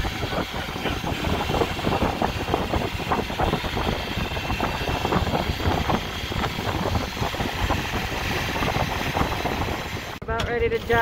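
A sailboat's auxiliary motor runs steadily throughout during a sea trial, a continuous broadband engine drone with wind and water noise, and a brief mechanical clatter near the end.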